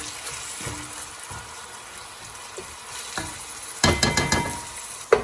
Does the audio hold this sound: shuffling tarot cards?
no